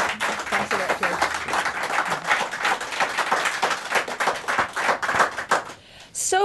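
An audience applauds Lord Foulkes at a live referendum television event, with dense, steady clapping from a crowd that rises and falls for several seconds before tapering off near the end.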